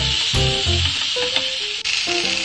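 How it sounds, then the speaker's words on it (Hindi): Spice masala with peas sizzles steadily in a hot pan for Indian cauliflower keema, a bright continuous frying hiss throughout, with faint scraping and stirring noises breaking through now and then. "तो मसाला हमारा भून रहा है"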